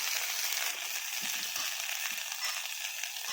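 Turmeric and chili powder being stirred in a frying pan, a steady close hiss of sizzling oil with soft scraping strokes underneath, no talking.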